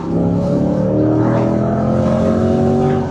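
Corvette C8 Stingray engine revving steadily up in pitch, heard from inside the car as a loud, continuous drone with rising harmonics over about three seconds, no voices.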